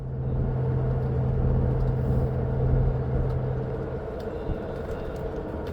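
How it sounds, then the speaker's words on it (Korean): A shuttle bus climbing Bukhansan makes a steady low engine rumble with a sustained droning tone from inside the cabin, which eases slightly toward the end. "버스는 북한산을 열심히 올라가는데요"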